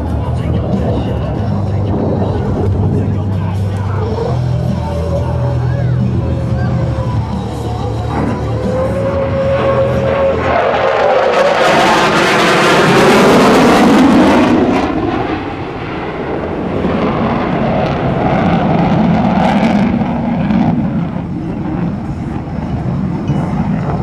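An F-15E Strike Eagle jet roars past in a low-angle straight pass at an airshow, its engine noise swelling to a loud close peak and then fading, while an announcer talks throughout.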